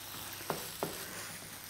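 Crumbled blood sausage fries with green onion in a hot pan, giving a soft continuous sizzle broken by two sharp clicks of a utensil against the pan. The sound is quiet and near, with no talking.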